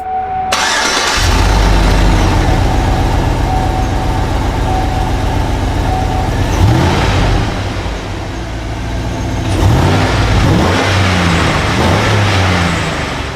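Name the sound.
GMC Yukon engine revving with simplified aftermarket intake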